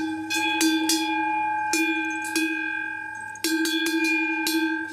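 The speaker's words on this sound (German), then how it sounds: "Milchkühe haben es aber nicht so gerne, wenn man die Glocke abnimmt." Cowbell hanging on a grazing dairy cow in an Alpine herd, clanging loud and close in irregular clusters of ringing strikes with sustained metallic overtones between them, no voices.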